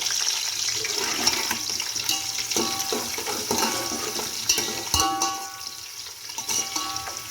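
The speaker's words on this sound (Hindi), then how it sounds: "अब 2 मीडियम प्याज थे जो स्लाइस करके मैं इसके अंदर ऐड कर रही हूँ।" Sliced medium onions added to well-heated oil fry with a steady, dense sizzle and crackle, joined by scattered clinks and stirring sounds, close and continuous with no talking.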